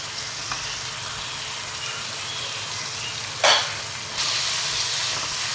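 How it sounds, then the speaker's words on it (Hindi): Beef liver fries in masala in a pan, a steady bright sizzle with a short louder burst of hiss partway through and the frying intensifying toward the end. "कलेजी को भी आपने मसाले के साथ भूनना है, 3 से 4 मिनट आप भूनें इसको अच्छी तरह"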